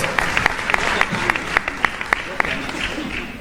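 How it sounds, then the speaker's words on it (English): An audience at a live-streamed prize announcement applauds, with a few sharp individual claps standing out over a low crowd murmur and room noise. "Please, a round of applause."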